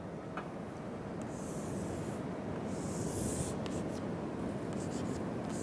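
A lecturer draws a graph on a board, the marker or chalk scratching and rubbing in steady strokes beneath a constant background hiss, with a few brief squeaky accents.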